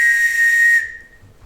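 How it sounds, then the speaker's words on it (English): A single sharp, steady whistle blast in a stage play, loud and clear, held for just under a second before cutting off abruptly. "take out his pocket watch, and whistle assembly call"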